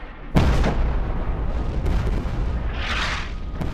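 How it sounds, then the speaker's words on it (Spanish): An artillery shell strikes the battleship Bismarck, piercing the deck and exploding against a turret, bursting its thick armored door: a sudden heavy boom followed by rumbling blast noise and a second bright burst, loud and close. "El proyectil atraviesa la cubierta y explota contra la torre, reventando la gruesa puerta blindada."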